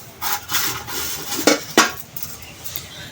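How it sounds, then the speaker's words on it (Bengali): Spiced egg kofta mixture with chopped garlic being worked by hand in a bowl, a few squelching, rubbing handfuls and light knocks against the dish, close and brief with no speech. "এইগুলো সমস্ত উপকরণ হাত দিয়ে মাখিয়ে নিব।"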